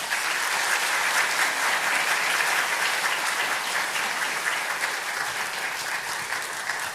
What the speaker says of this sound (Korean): 나오실 때 한번 환영하는 마음으로 힘차게 박수하시겠습니다.